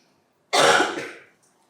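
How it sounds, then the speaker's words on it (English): A single close cough, one harsh rasping burst lasting under a second, heard alone against a quiet room. "Cough break."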